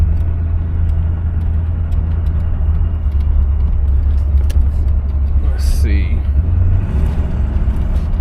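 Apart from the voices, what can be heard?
1966 Cadillac Coupe de Ville driving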